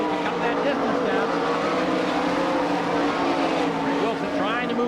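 Sprint cars racing on a dirt track at Franklin, Pennsylvania, a loud continuous engine roar from the passing field with rising and falling pitch, under steady announcer commentary.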